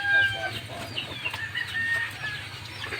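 A chicken clucks repeatedly close by, with short irregular bursts of fowl chatter and a few sharper calls over a low background hum.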